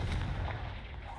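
A Confringo fire spell blasts in the Hogwarts Legacy video game, a single heavy booming burst with a deep rumbling tail lasting about a second.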